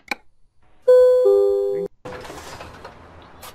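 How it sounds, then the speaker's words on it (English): A two-tone ding-dong chime sounds in Euro Truck Simulator 2 with a clear, sustained bell tone of about a second, followed by softer rustling background noise. "Ding dong."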